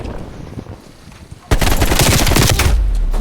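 Automatic gunfire in the video game Call of Duty Black Ops Cold War, a loud sustained burst of rapid shots that starts abruptly after a quieter stretch of game noise.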